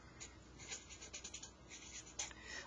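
Marker or chalk scratching across a board while a Fisher projection is drawn, faint short strokes and taps in an irregular rhythm, close and quiet.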